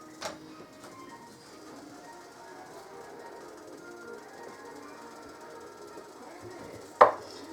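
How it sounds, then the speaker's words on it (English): A knife cuts bratwurst into chunks on a board, giving faint, scattered thuds with one sharp, louder chop near the end over a low background. "I'm going to cut every one of them up. And I'm just going to cut them in nice chunks."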